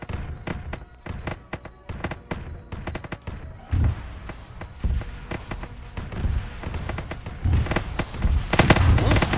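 Rapid gunfire from Warhound titans in a Warhammer 40k video game: a string of sharp, booming shots and thuds in irregular bursts, building toward a heavier cluster near the end.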